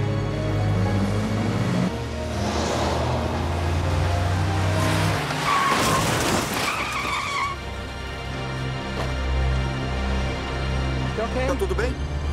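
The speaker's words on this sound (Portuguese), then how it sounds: "Quando o carro de Elizabeth Myers sofreu uma colisão lateral," Car skids with squealing tires into a side collision, a loud close screech and impact, then engine hum with people talking over it.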